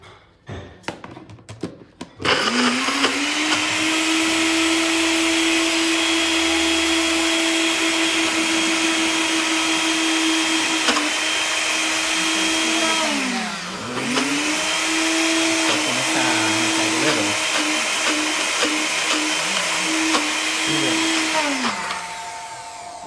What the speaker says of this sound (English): We're using this NutriBullet.